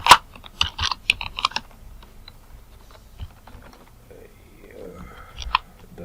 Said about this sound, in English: I'm going to type here food, yeah, food, or grocery